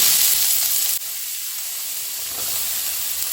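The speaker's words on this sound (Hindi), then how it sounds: "मेरा यहाँ पे तेल जो है ना गरम हो चुका है। अब हम डालेंगे इसमें थोड़ी सी मेथी के दाने 7 से 8, हल्का सा जीरा। ये सब अच्छे से क्रैकल होने के बाद" Fenugreek seeds and cumin sizzle steadily in hot oil in a pan, a close, continuous bright hiss with a brief dip partway through before it swells again.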